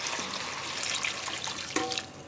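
Seasoned water being poured into a pot of chicken foot soup with provisions, a steady close splashing pour ending with a brief gurgle and clink.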